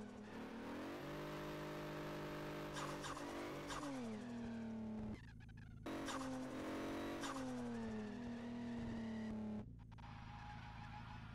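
Game car drifting with a sustained engine roar that rises and falls in pitch through gear shifts, with screeching tire squeal during the slides and a brief drop in sound midway.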